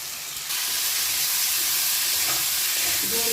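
Spice paste sizzles as it is sautéed in a pan for a prawn, fig and potato curry. A steady frying hiss swells after a quieter start and stays close and even, with faint stirring scrapes near the end.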